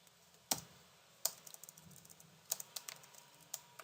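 Python code typed on a computer keyboard, a few sparse, sharp key clicks followed by a short quicker run, close and quiet in a still room.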